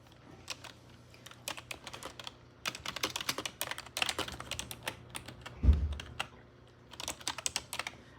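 Typing on a computer keyboard comes in fast irregular bursts of close, crisp key clicks with short pauses in between, with one soft thump partway through.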